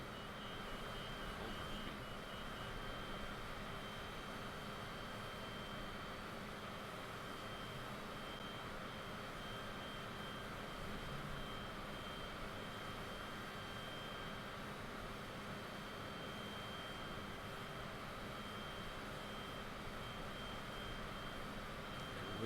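The Cessna Citation jet engine in a flight simulator game, a steady faint whine and rumble with a constant tonal hum, unchanging throughout.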